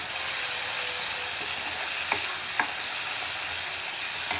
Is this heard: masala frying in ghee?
yes